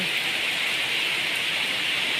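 A downpour of heavy rain hisses without a break, loud and near, a thick even wash of falling water throughout.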